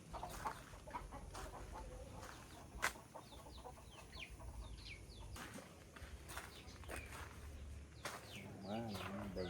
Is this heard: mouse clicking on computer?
no